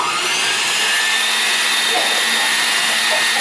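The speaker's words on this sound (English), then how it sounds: "we're going to mix that again with the mixer." An electric mixer whirs steadily, loud and close, as milk is beaten into pineapple upside-down cake batter, a continuous high motor whine with no break.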